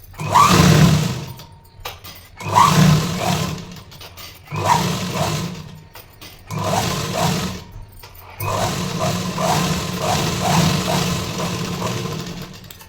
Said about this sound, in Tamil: ஸோ வந்து ஸ்டிச் பண்ணிக்கலாம், டபுள் ஸ்டிச் பண்ணிக்கலாம்